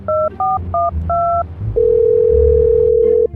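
In the phone-call scene of Indian Bike Driving 3D, four quick keypad dialing beeps sound in a row, followed by a loud, steady dial tone that holds and then cuts off.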